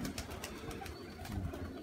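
Pigeons outdoors being fed on the street after rain, with soft intermittent cooing and fluttery bird sounds, faint and nearby, alone without speech.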